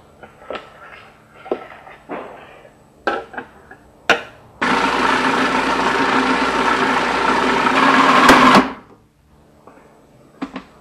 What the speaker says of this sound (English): all together, blend it for about a minute